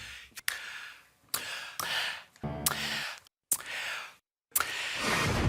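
TV presenters breathe heavily and loudly into the microphone, a series of about six sharp, gusty inhales and exhales separated by short silences.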